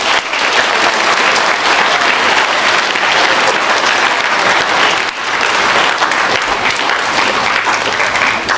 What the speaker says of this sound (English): Give yourselves, please, a round of applause.